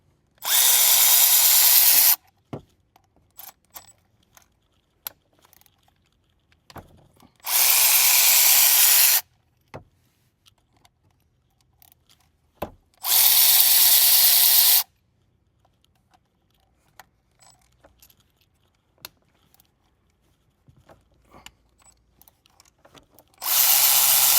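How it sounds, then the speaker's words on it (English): A power tool spins out 6mm Allen head bolts from a Ford F-350 six-speed manual shifter, four loud close whirring bursts of about two seconds each, separated by quiet gaps with faint clinks. "we have 6 6mm Allen head bolts that we got to take out, and then the shifter will come right off"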